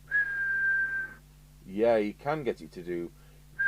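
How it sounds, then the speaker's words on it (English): A steady whistled tone into a Maxon CM10 CB radio during a whistle test, held for about a second before someone speaks briefly. "We'll give it the whistle test."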